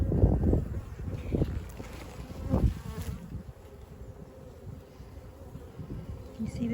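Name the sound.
honeybees buzzing at the hive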